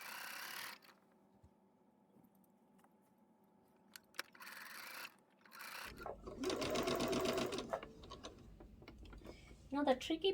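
Sewing machine stitching a rolling hem on a large flowing dress with a rolling hemming foot: a loud, rapid stitching run after a quieter hum-filled stretch, with a voice heard earlier.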